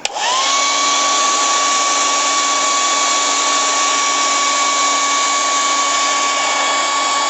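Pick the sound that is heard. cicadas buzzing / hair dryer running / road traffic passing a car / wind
hair dryer running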